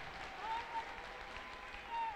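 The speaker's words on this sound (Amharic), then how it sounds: "እስቲ ለጌታ ከፍ ያለ ልልታና ጭብጨባ አምጡ" A church congregation applauding during a worship service, a faint dense patter of clapping spread through the hall, mixed with voices.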